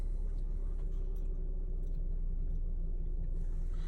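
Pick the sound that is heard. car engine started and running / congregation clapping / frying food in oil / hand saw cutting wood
car engine started and running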